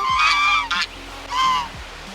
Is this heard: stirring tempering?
no